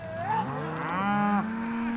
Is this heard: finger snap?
no